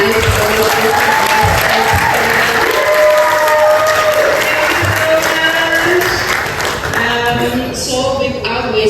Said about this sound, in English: we should give one phenomenal woman a big round of applause, Dr. Brink, who organized all of this